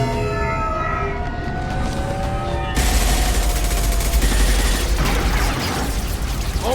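A loud firefight in Mass Effect 2 breaks into heavy continuous gunfire, with rapid automatic bursts and mechanical clatter following a tonal lead-in.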